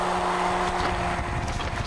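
A Traxxas Spartan radio-controlled boat on 4S LiPo batteries runs at half throttle on water, giving a steady high motor whine with a constant hum that holds level throughout, backed by water and wind noise.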